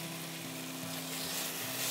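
Steady sizzling of dal in a hot pan as coriander leaves go in, a continuous close hiss with no talk.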